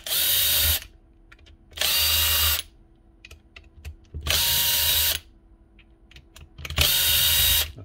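A drill on an old Makita power tool undergoing repair backs out the motor's four bolts in four loud, steady bursts of about a second each, with quiet clicks and rattling in the gaps and no talk.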